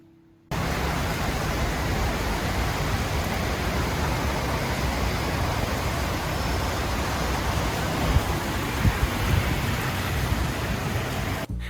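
Rain pours in Kuala Lumpur as a dense, steady hiss that begins abruptly and holds at an even, close level, with a few faint thumps near the end.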